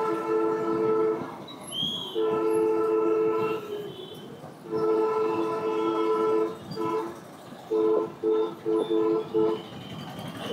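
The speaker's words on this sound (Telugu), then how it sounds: "హార్న్ అతను కంటిన్యూస్గా హార్న్ కొడుతూ ఉన్నాడు" At night on the Ongole–Kurnool road, a vehicle horn sounds in long, repeated blasts, steady tones broken by short gaps and a quick series of toots at the end, over faint traffic rumble.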